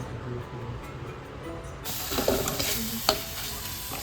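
Spice paste with cumin and onion fries in a pan for a thin fish curry, a soft sizzle with a spoon scraping and stirring, rising to a brighter hiss partway through, close and low.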